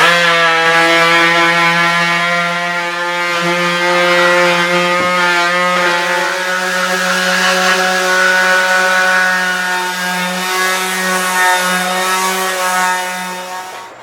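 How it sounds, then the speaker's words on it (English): A palm sander running steadily on the live edge of a black walnut slab in a workshop, with a constant buzzing hum and slight shifts in pitch as it moves, close and loud, then fading at the end. "we're going to switch over to a palm sander and we're going to do around the edges of this"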